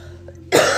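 A single sharp cough from someone with a little cold, loud and close, bursting out after a moment of near silence.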